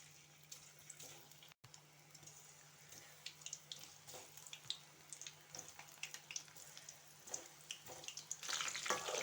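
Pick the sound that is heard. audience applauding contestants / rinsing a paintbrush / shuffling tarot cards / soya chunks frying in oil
soya chunks frying in oil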